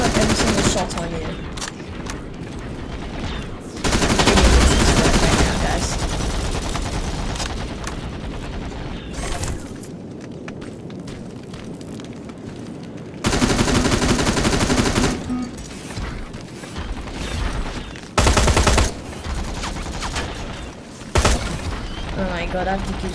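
Loud gunfire from Terminator Resistance, a first-person shooter game, comes in rapid automatic bursts separated by quieter gaps, with a player talking over the shooting.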